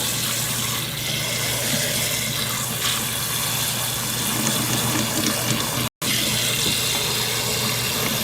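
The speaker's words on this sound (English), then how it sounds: "We're going to cover this good with water." Tap water running steadily into a pot to cover beef stew in a home kitchen, a continuous close rushing hiss with no talk, briefly cut by a split-second dropout near the end.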